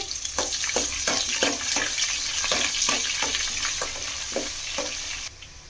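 Thinly sliced medium onions frying in hot oil for a raw banana curry, a steady close sizzle with repeated stirring scrapes at a regular rhythm, no talk.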